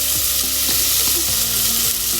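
Garlic frying on low heat for soup: a continuous close sizzle with soft stirring scrapes, steady and alone.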